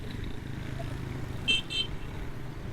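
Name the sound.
vehicle horn honking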